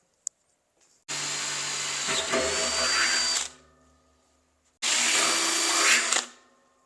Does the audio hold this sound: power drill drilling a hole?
yes